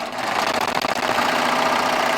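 Baby Lock Triumph serger overlocker stitching off the end of a quilt binding with a 4-thread overlock, a fast close mechanical whirring hum that stutters briefly midway, then runs steadily again.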